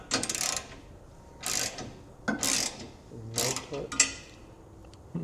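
A ratchet snugs a flange nut with a 15mm socket while installing a trailer hitch receiver on a 2026 Chevrolet Colorado, five quick bursts of clicking spaced about a second apart, close and fairly quiet.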